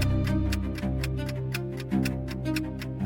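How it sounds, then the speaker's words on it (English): An old clock ticks in a silent house, each tick crisp and evenly spaced at a steady rhythm, fairly close and heard alone over a low sustained tone. "the ticking of that old clock"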